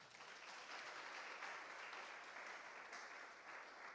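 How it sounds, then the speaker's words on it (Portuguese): A congregation at an evangelical church service breaks into sustained, dense applause, a steady broadband clapping wash heard from a distance that holds evenly for the full four seconds. "Aplauda o Senhor."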